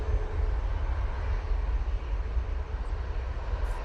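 A TUI passenger aircraft at Manchester Airport gives a steady, loud broadband engine roar with a heavy low rumble that holds level throughout, with no voices over it.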